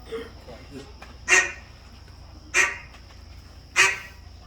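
A person imitates a mallard hen duck with their voice, giving three loud, evenly spaced nasal quacks about a second apart, close by.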